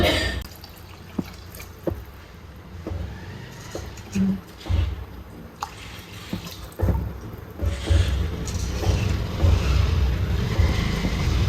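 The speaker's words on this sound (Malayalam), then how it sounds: "വെള്ളം ഒഴിച്ചു" Tamarind water is poured into a pan of fish curry, starting with scattered drips and splashes, then building into a louder, steady gush toward the end.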